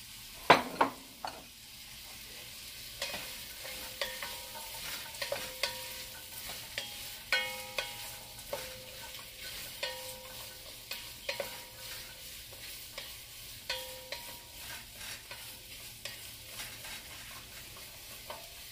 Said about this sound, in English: I'm going to add my carrots.